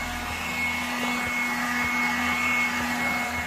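A vacuum cleaner runs continuously nearby with a steady droning hum and a thin high whine, and no one speaks over it.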